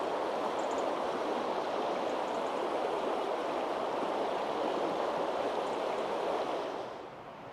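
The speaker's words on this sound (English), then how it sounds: "listen to the river" River water rushing steadily past autumn trees on a Welsh homestead, a broad continuous wash of flow held at an even level before easing slightly at the end, with no voices.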